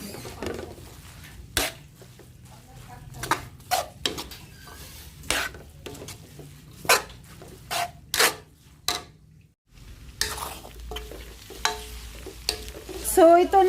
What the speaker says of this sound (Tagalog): Tapos haluin na lang ng maigi para maluto yung talbos ng bawang.